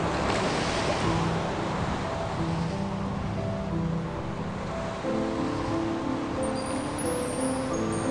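Water surges and washes continuously in an animated Buddhist story, a steady broad rush of moving waves filling the scene at close range, with faint tonal sounds drifting in the background.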